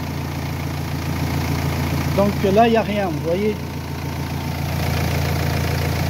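A car engine idles steadily during an alternator test, a constant mid-low hum running throughout while someone speaks French over it.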